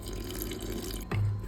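A cup of water pours into a wheat flour and onion batter, a short close splash and trickle arriving near the end over a steady kitchen background hum.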